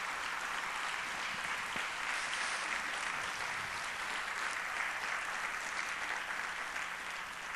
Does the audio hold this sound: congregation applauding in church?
yes